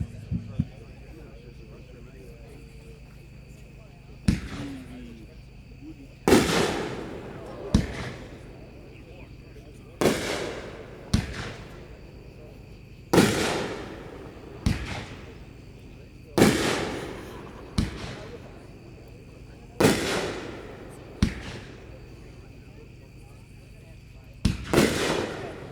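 A Mega Banger Skull Crusher consumer firework fires a volley of sharp, loud shots, each launch followed by a crackling burst, spaced a second or two apart across the sequence.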